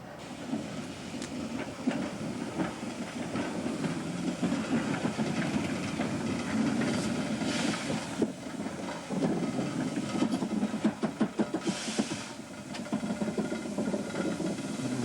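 A British steam locomotive backs onto its train and couples up at a station, heard as a steady, moderately loud rumble of engine and rolling stock with rail clatter and a few sharp knocks near the end.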